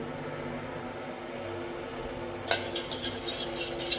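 Milk mixture with cardamom powder for kharvas stirred in a pot, a few close scraping clinks of a spoon against metal starting partway through over a steady low hum.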